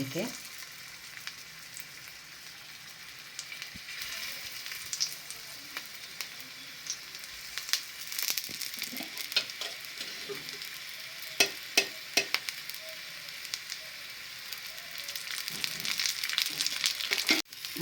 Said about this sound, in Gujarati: આ રીતે કબાબને સરસ એવા તવાની અંદર તળી દીધા છે